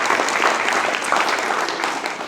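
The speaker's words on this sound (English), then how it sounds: "clap it up for your families" High school graduates clap together for their families at a 2026 graduation ceremony, a dense, steady burst of applause from a large crowd filling the space for a couple of seconds.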